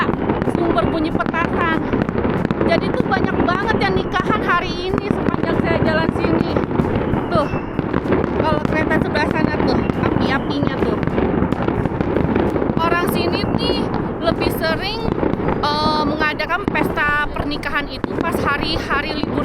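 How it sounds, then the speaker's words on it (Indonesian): Firecrackers crackle continuously from two or three sources around a village celebrating weddings, dense bursts and pops going on throughout, loud and somewhat distant, with people talking over them. "ada 2 atau 3 sumber bunyi petasan"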